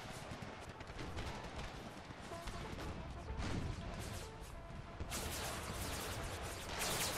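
Artillery barrages landing in Empire: Total War with the American Civil War mod, repeated crashing explosions and rumbling impacts in a continuous battle din, fairly distant and faint, growing denser toward the end.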